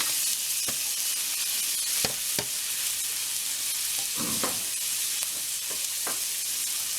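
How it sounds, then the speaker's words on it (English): A sliced yellow onion sautés in butter with a constant close hiss and sizzle, while occasional spoon scrapes and taps on the pan break through and no one speaks. "And what we're going to do here is just saute this onion down until it's nice and sweet."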